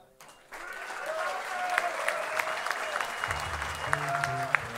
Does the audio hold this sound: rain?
no